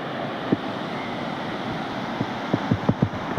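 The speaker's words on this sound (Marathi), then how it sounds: "अति प्रचंड प्रमाणामध्ये पाणी आलेलं आहे" A flooded Mehekari river overflowing its banks, producing a continuous broadband roar of rushing water with wind buffeting the microphone and a few low thumps near the end.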